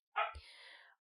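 During a quiet indoor podcast recording, a dog lets out one faint, short bark with a brief trailing whine.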